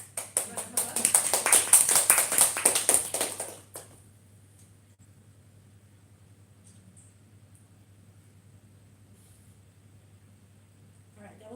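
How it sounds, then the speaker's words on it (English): A crowd at an installation festival claps in a brief, lively burst lasting a few seconds, then it stops abruptly and only a low electrical hum remains in the quiet room. "Round of applause."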